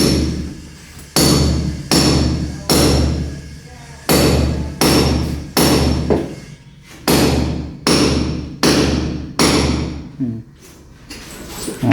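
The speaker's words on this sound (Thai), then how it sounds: "มีค้อนใหญ่ๆเนาะตัวค้อนเขาถูกทางถูกหินนะ" A heavy hammer strikes rock again and again, a dozen or so loud, ringing blows at a steady pace, each fading before the next, over a low constant hum.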